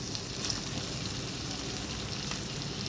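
Chopped onions and green chillies frying in a pan, a steady soft sizzle and crackle at low level with faint pops, no talk.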